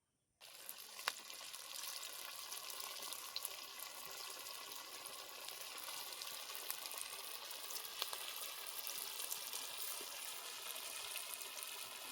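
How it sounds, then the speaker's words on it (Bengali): Sago pakoras frying in hot white oil, a dense, steady bubbling sizzle that starts abruptly and continues evenly throughout, close and fairly quiet. "সবুর পকোড়াগুলো এবার ছেড়ে দিচ্ছি তেলের মধ্যে"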